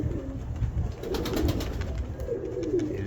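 Pigeons cooing close by outdoors in wind, a steady run of soft low coos lasting throughout, with airy wind noise underneath; people talk nearby.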